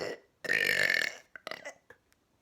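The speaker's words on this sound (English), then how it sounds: "I'm just going to see how many I can possibly get in and make the loudest burp." One loud, drawn-out burp lasting almost a second during a burping challenge, followed by a few short, softer gulping and throaty sounds, with no talk.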